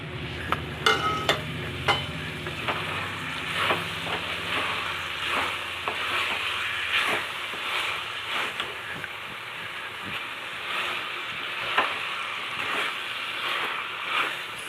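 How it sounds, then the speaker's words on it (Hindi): Paneer and capsicum stir-frying in a pan with sauce, a close sizzle broken by repeated scraping strokes of a spatula, loudest at the start and then settling into a softer hiss. "पनीर डालने के बाद हमें इसे 1 मिनट भूनना है"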